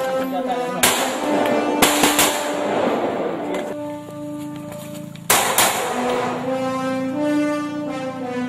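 Marines firing weapons during a training exercise, a few sharp loud reports spaced seconds apart over a steady droning background with tonal hum.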